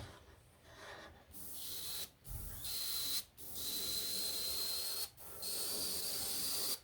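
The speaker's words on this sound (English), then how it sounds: "It's quite a large surface to be spraying with such a small gun" Steady hissing spray from a small paint spray gun coating a large surface, in long bursts separated by short pauses, close and fairly loud, with no talking.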